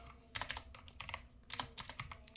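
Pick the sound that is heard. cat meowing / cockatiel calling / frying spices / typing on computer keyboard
typing on computer keyboard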